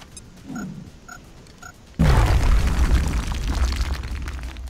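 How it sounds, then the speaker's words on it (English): A grenade detonating in the strategy game XCOM Long War: a few short electronic interface beeps, then a sudden loud blast with a deep rumbling roar that lingers and slowly fades. "we're going to drop a grenade on these two"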